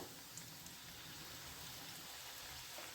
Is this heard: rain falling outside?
yes